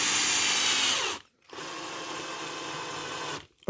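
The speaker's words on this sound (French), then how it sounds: "la perceuse" An electric drill runs while a Hobbytech NXT 1/8 brushless buggy is being prepared, whirring in two close, loud bursts split by a short pause, with a brief stop at the end.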